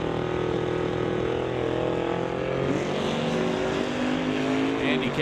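At a drag strip in a NHRA Summit ET Series race, cars including a 1970 Chevelle launch, their engines a dense, loud roar that climbs and shifts pitch partway through, steady without breaks.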